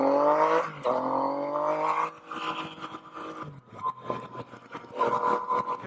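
A 2017 Yamaha FJ-09 (Tracer 900) motorcycle engine revving up through the gears, the rising whine cutting off at a shift and climbing again before easing back, heard close and fairly loud.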